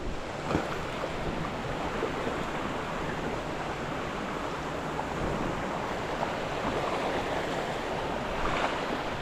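Water rushes steadily at a jungle waterfall where large freshwater shrimp are caught, a dense, even roar that holds at the same loudness throughout with no talking.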